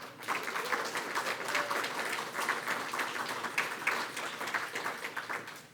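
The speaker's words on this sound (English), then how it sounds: "Please give another round of applause for our features." Dense, sustained applause from the audience at a women's poetry reading event, an even roar of clapping hands heard from within the room for the whole stretch.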